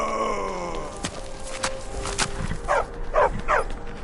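A dog companion in Skyrim gives several low groaning growls and short huffing barks, close and fairly loud, in quick succession over a brief game scene.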